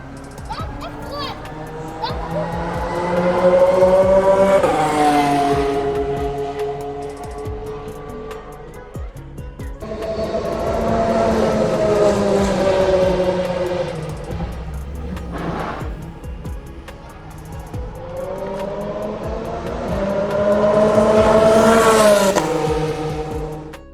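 F1 race cars roar past on the Jeddah street circuit in three long, loud swells that rise and fade as each car passes, with a voice speaking over them.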